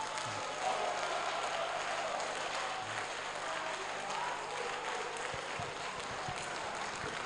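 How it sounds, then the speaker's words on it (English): Applause from the audience at a regional delegates' conference, a steady, distant wash of clapping that holds evenly for several seconds, faint and without any speech over it. "Oh, I want a resounding applause."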